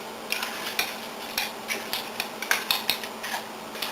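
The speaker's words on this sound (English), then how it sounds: "Take your time, stir it up." Shrimp, freshly fried, being stirred into sauce while still hot, giving a run of light, irregular scraping and clinking strokes, moderately close, repeating every half second or so with no voices.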